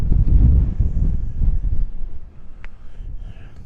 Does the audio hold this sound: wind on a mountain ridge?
yes